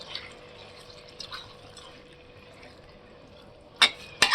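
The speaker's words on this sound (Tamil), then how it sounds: "நம்ம கொஞ்சமாக சிக்கன் வேகிறதுக்கு ஒரு 1/2 டம்ளர் தண்ணி ஊற்றிக்கலாம்" Water from a half tumbler is poured into chicken cooking in a pan for chicken chukka, giving a faint liquid trickle and drip with two brief louder splashes at the end.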